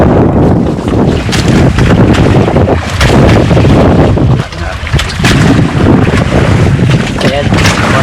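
Strong wind roars over a small fishing boat at sea, a loud continuous rush buffeting the microphone with brief dips and gusts.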